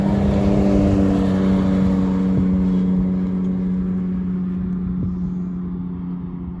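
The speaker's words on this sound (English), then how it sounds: "There's a truck with a camera behind it." A camera truck drives past on a road in the Alabama Hills film location, its engine giving a loud, steady droning rumble that slowly fades as it moves away.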